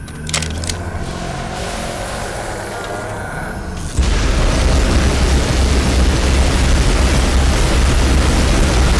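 Rocket blasts in Black Mesa erupt into a loud, sustained roaring wall of explosion noise after a few seconds of quieter game ambience with small impacts, the heavy rumble continuing to the end.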